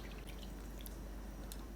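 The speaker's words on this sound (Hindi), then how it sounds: "हमने इस तरह टाइटली मुट्ठी के अंदर इसको निचोड़ लेना है ताकि सारा पल्प वाला पानी निकल जाए।" Tamarind pulp squeezed tightly by hand in a fist gives soft wet squishes and a few faint drips of pulpy water, quiet and close against steady background hiss.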